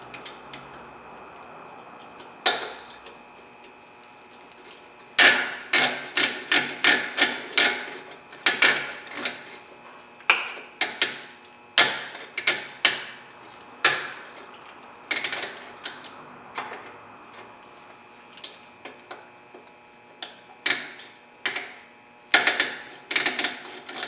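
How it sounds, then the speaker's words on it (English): Close ratcheting wrench works a rear brake bolt on a 2011-2019 Jeep Grand Cherokee, giving bursts of rapid, sharp metallic ticks in repeated quick strokes separated by short pauses. "this is a ratcheting wrench, so it goes a little bit quicker"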